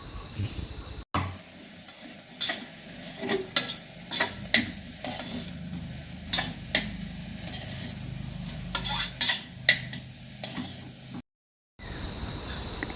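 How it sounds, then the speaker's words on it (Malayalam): Chopped carrots and beans are stirred into a pan of spiced rice, with repeated scraping and clinking strokes over a soft, steady sizzle and no voices. "ക്യാരറ്റും ബീൻസും അരിഞ്ഞു വെച്ചിട്ടുണ്ട് അപ്പോൾ അത് ഇതിലേക്ക് ചേർക്കാം"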